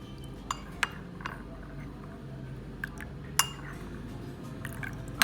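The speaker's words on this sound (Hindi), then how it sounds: "अब मैं शाशलिक में मिक्स करती जाऊँगी और जो चम्मच में हिलाती जाऊँगी।" A spoon stirring chicken shashlik in a pan, giving scattered light clinks and taps against the metal at irregular intervals over a low steady kitchen background.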